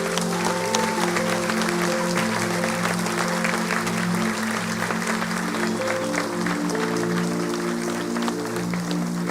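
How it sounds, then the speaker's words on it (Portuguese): Congregation at a church service applauding together, a dense steady wash of many hands clapping that fills the whole stretch at even loudness, with sustained organ or keyboard tones running underneath. "Vamos recebê-los com a salva de palmas"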